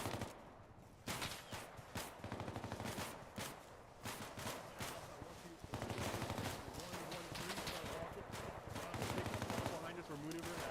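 Sustained gunfire rattles through a tactical training exercise, with rapid repeated shots in long bursts that carry on almost without a break, alongside shouted voices.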